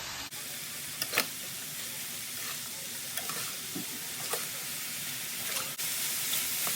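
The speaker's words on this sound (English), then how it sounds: "I'm going to go ahead and add the spinach. And we're just gonna stir." Beef and spinach sizzle in a skillet while a utensil stirs, a constant close frying hiss broken by occasional scrapes and taps against the pan.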